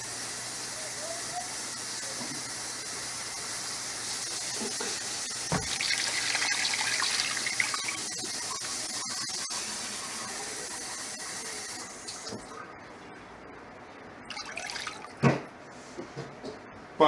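A steady stream of water pours and rushes into a pot over soy sauce for several seconds, then trails off into drips and small splashes.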